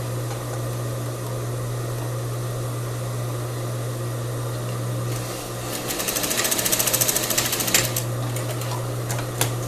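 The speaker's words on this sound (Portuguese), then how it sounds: "Só vou dar uma costurinha aqui, que a minha costura tá abrindo" A sewing machine stitches a seam on crepe bubble fabric for a ruffled blouse. A steady motor hum runs throughout, then a close, rapid burst of stitching clatter comes in the second half, with no talking.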